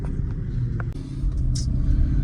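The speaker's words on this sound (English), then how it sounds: "the engine's so nice. It sounds so good" A car engine idles steadily as a low, continuous rumble with a faint mechanical hum, close by and unbroken, with no voices over it.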